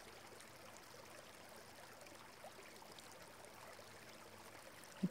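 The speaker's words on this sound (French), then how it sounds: "Et là, il y a un ruisseau." A small stream flows beside a path through nature, a faint, steady trickle and wash of water with no clear breaks, distant and low in level throughout.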